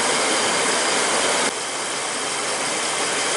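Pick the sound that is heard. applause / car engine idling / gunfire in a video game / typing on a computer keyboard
car engine idling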